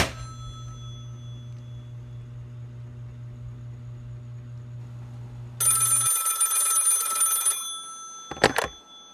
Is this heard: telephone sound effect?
yes